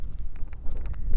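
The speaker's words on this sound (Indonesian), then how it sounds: "Ini suara angin." Wind buffets the built-in microphone of a BPro 5 Alpha Edition Lite action camera outdoors, a low rumbling roar with uneven gusts and a few faint higher blips over about a second.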